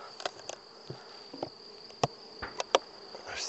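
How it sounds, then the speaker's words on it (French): Honey bees hum close at an opened hive near a feeder, with a thin buzzing drone broken by scattered sharp ticks and taps. "Hop, il y a des abeilles dans le nourrisseur."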